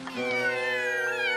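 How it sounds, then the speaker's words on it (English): Cartoon kittens meowing, a single sustained, bright, wavering meow that holds steady and close for over a second with no talk over it. "what's this? 3 playful kittens."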